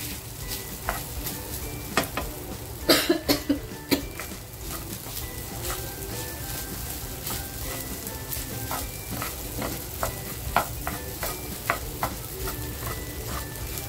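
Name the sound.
sabudana khichdi frying and being stirred in a pan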